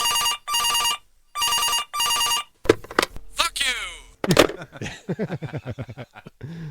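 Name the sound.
telephone ringing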